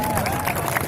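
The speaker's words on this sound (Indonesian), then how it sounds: "Tepuk tangan buat semuanya." A crowd at a tabligh akbar Islamic gathering bursts into steady applause and cheering, a dense, loud wash of clapping that fills the whole short moment.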